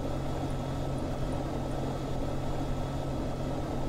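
An airplane engine drones in a video game as the plane drifts, a steady, loud, buzzing propeller hum that stays constant and close throughout with no speech.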